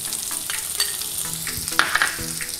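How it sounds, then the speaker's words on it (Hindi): Finely chopped onion fries in a pan on a low flame, giving a loud, close, steady sizzle with intermittent spatula scrapes and knocks and no talking. "अब इसमें मैं बारीक कटा हुआ प्याज डालूंगी"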